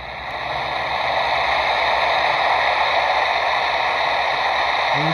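A sound machine's waterfall track gives a loud, unbroken hiss of rushing water, steady and hiss-like throughout without pauses or talk.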